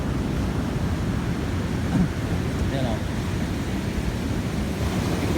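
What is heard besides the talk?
large waves after typhoon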